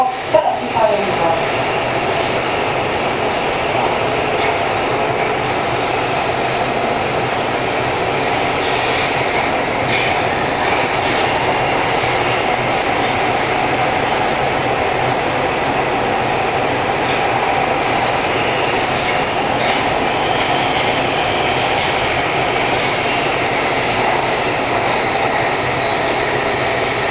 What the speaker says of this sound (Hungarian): Ez az M4-es metró a keleti hálóvonal felé.